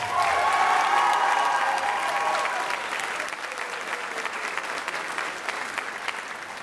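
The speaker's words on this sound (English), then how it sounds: "How about one more round of applause?" A school spring concert audience gives a round of applause for the graduating band class of 2024, loud sustained clapping with some cheering and a held instrument tone early on, easing to a steadier patter.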